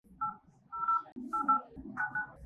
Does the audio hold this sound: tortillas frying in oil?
no